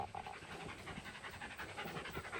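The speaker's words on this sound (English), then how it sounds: "the dog's puffing its guts out, so she's going to cool off" A dog pants rapidly and hard in a workshop shed on a hot night, the quick rhythmic breaths close and steady against a faint background hum.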